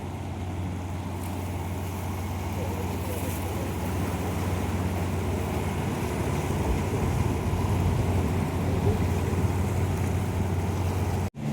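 Fishing boats come in from the sea through the estuary at Azhikode in the evening after a day's catch, their engines a steady, close, low droning hum with wind and water underneath, continuous throughout.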